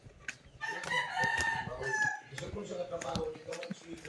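A rooster crows loudly nearby, a drawn-out cock-a-doodle-doo, followed by scattered clucking and farmyard bustle.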